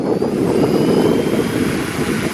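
A small drone's motors and propellers whine and buzz steadily in flight, loud and close, with a continuous droning hum that holds without pause.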